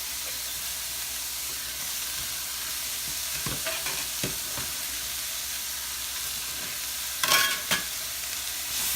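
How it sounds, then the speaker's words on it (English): Garlic, green onion and cauliflower sizzle steadily in a pan, a constant hiss with a few scraping stirs and a louder clatter of the utensil near the end. "Give this a nice stir."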